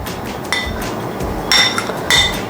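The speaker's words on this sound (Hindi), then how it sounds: "इन सभी चीज़ों को हम अच्छे से मिक्स कर लेंगे।" Semolina, desiccated coconut and cardamom powder are stirred together in a bowl with a spoon, giving a few light clinks and scrapes against the metal that come up in brief bursts over a soft background.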